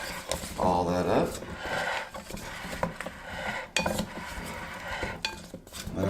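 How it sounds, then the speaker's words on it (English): Chicken pieces, potatoes and asparagus coated in a couple tablespoons of avocado oil are stirred in a Ninja Combi pan, giving scraping and clinking of utensil against cookware, with a person talking over it. "And then you want to stir all that up."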